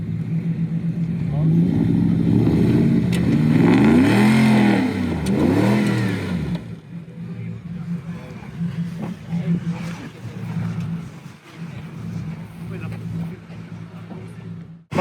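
A prepared sports off-road car revs hard on an off-road hill-climb course, with a loud, rising and falling engine roar for several seconds that then drops to a rougher, lower running sound while people talk nearby.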